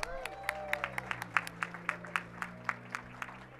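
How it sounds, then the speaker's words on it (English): Scattered applause at an outdoor Walk of Fame ceremony, individual claps ringing out in a loose, uneven rhythm, fairly faint and distant, with a low steady hum underneath. "let's give a round of applause for actress Mayim Bialik"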